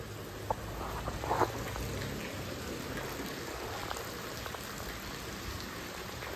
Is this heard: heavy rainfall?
yes